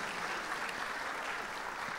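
Church congregation applauding visitors, a soft, steady patter of many hands clapping, faint and distant throughout the short stretch.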